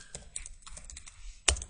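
Keys clatter on a computer keyboard as a line of SQL query text is typed, a quick irregular run of close, light taps ending in one sharper, louder keystroke.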